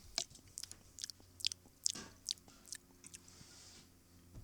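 Someone bites and chews a homemade cookie up close. Soft crunches come in an irregular rhythm against quiet surroundings, with no talking.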